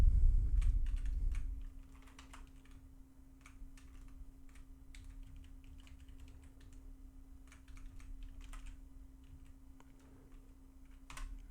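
Computer keyboard typing while indenting a Power BI formula: a soft, irregular patter of quiet key taps over a steady low hum, close by and alone.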